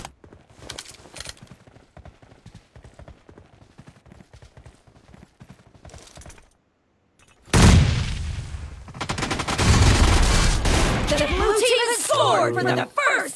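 Gunfire in the mobile battle royale game PUBG Mobile: rapid automatic bursts crackle close and loud, then a long sustained barrage of heavy shots, with a voice talking over the early part.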